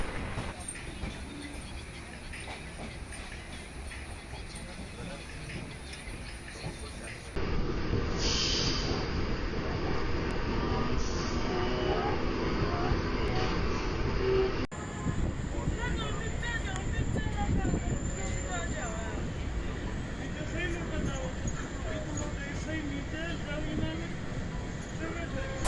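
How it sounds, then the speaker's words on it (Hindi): Train pulling slowly out of New Delhi railway station, a steady low rumble of carriages rolling on the rails with a sharp jump in loudness midway, continuous throughout. "हमारी ट्रेन नई दिल्ली रेलवे स्टेशन से धीरे धीरे आगे बढ़ती है"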